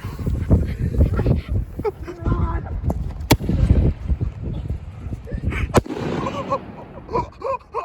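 A fireworks mortar explodes at a New Year's celebration, with sharp booms and crackling bursts landing among continual pops, close and loud, while people talk over it.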